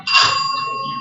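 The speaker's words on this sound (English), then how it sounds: "Give them the bell. Their time starts." A single bright bell ring marks the start of a group's timed session at a science event, a sharp metallic strike that rings on with a sustained, slowly fading tone, close and clear.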